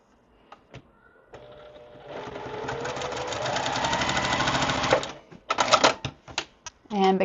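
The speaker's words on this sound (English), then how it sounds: "So we're going to sew these two together and then sew it onto here." A sewing machine stitches quilt block pieces of fabric together in a short run of rapid mechanical whirring, building from faint clicks to a steady buzz before stopping, followed by scattered handling taps and clicks nearby.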